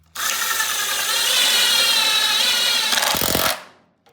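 A power drill drives sheet metal screws into the bed of a 1973-79 Ford F-100 during a long-to-short bed conversion, one loud steady high-pitched whine lasting about three seconds before winding down.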